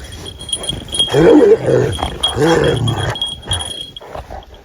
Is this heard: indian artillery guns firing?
no